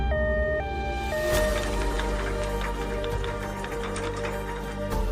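A loud siren wails with stepped, alternating tones over busy, noisy surroundings, sounding close by for several seconds.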